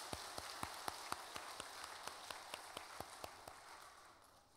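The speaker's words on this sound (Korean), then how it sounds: "박수하겠습니다." Congregation at a church service clapping together in a slow, steady unison rhythm of about a dozen sharp claps, faint and distant in a roomy space, fading toward the end.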